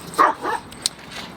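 Small dogs at a dog park give two or three brief, fairly faint yips and barks, set against quiet outdoor ambience.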